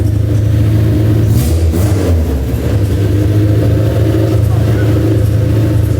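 Honda K20A engine in an EG build running without exhaust at its first start-up, a loud, raw, rumbling idle with a couple of blips of revving, while people talk nearby.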